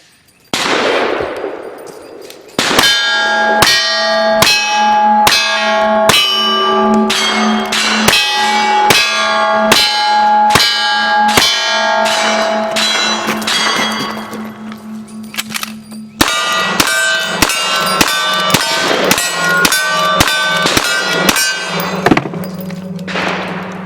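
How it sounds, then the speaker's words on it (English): Cowboy action shooting stage: a rapid run of gunshots, each followed by the bright clang of ringing steel targets, loud and close, with brief pauses between strings of fire and a change of gun partway through. "Let's watch Latort Lawman tackle a typical cowboy action shooting stage"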